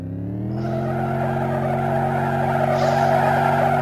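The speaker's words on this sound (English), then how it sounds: "I don't know why I'm skidding" Tires skid and squeal continuously over a steady engine drone in a Commodore 64 arcade racing game, the screech rising slightly toward the end, with no talking.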